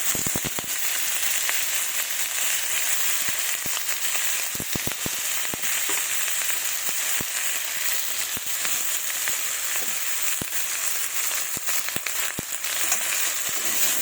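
Potatoes and eggplant sizzling with onions in a hot pan, a loud steady hiss of frying oil that runs throughout, dotted with sharp pops and crackles and no talking.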